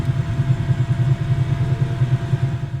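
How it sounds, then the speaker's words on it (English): A Bell 222B helicopter's second engine spools up in Microsoft Flight Simulator, a steady pulsing turbine drone with a low rhythmic throb, loud and continuous with no talk. "Engine 2 coming up."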